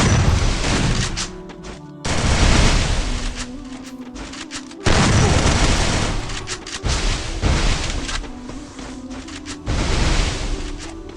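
Dense bursts of in-game gunfire and explosive booms from a Free Fire battle, loud and continuous with short pauses between volleys, no talking over it.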